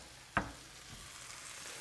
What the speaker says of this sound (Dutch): Dan bakken we dat ook nog even mee.